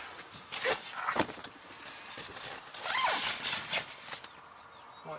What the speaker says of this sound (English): which you can unzip all of those, but not with the fly on